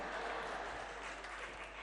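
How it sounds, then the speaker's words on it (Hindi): Applause from a gathering at a Jain monk's daily sermon in Shirpur, Maharashtra, a soft, continuous patter of many hands heard faintly from a distance with a low hum beneath. "तालियां बज गई।"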